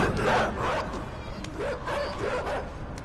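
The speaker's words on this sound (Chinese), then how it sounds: "终于看见狗狗了" Dog barking in the video game Inside, a few short yips and whimpering barks spaced through a steady ambient game background, moderately close.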